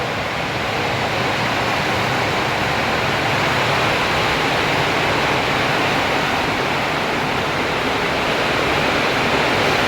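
Heavy rain pours steadily outside a small hut, a dense, unbroken hiss of water at constant loudness with no pauses or other sounds standing out.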